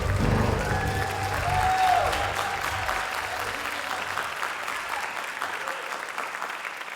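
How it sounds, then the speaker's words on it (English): An audience gives a round of applause after a gospel song, steady crowd clapping that stays loud and gradually thins, with some voices mixed in. "Let's give Gene another round of applause"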